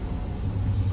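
Low, steady engine rumble from a car idling and creeping into a parking spot near Kalkaji Mandir, close and continuous with no voices.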